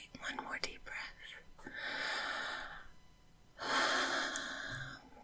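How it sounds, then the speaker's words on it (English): Slow deep breaths taken during a stethoscope check in a calm exam setting, two long airy inhale-exhale swells, close and soft, with a brief whisper before. "One more deep breath."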